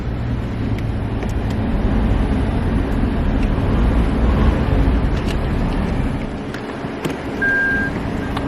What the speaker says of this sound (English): Fires up, no problem. We'll give it just a short rev.